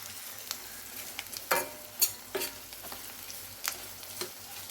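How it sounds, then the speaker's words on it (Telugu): Spice and salt being stirred into an omelette curry in a pan, a quiet gentle sizzle with several distinct scraping strokes of a spoon, no talking. "సరిపోయినంత ఉప్పు వేసుకొని బాగా కలబెట్టుకోవాలి"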